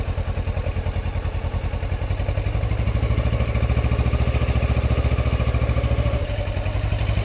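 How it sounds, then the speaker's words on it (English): A motorcycle engine runs close by in a steady, rapid thrumming putter that rises slightly in pitch as the clutch is let out and the bike begins to pull away. "let out the clutch again, slowly, and you'll start taking those baby steps, and the bike will start moving."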